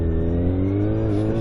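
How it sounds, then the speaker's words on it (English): A car pulls out and drives past on a road in icy winter conditions, its engine note rising and steady at close range, heard alone without talk. "There's a car about to pull out of here."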